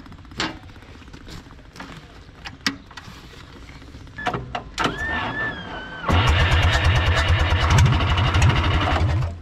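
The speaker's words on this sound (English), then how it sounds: "Let's see if it's going to fire up once more." A Komatsu D31S track loader that sat unused for over ten years cranks with a rough, uneven whir, then breaks into a steady, loud, close running rumble for the last few seconds.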